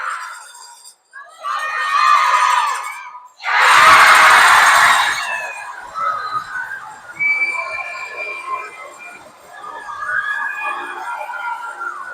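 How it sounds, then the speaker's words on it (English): Spectators at a hockey tournament in Strathmore erupt in loud bursts of shouting, shrill whistling and high-pitched cheers, with short lulls between the surges and a distant arena murmur throughout. "do you guys hear that crowd?"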